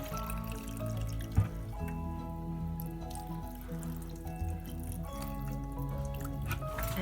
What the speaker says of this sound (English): I'm just gonna top these off with the apple cider vinegar